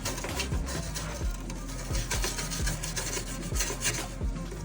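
Brushes scrub repeatedly over bare metal in a Mazda RX-7 FD engine bay being stripped, giving a close, rhythmic rasping with regular strokes roughly twice a second and no talk.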